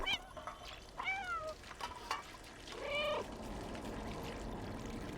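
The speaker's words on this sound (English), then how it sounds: "I can meow with authority" Video game cat in Stray meowing, several distinct drawn-out meows with pauses between them, then a steady trickling, pouring wash underneath, fairly close and quiet.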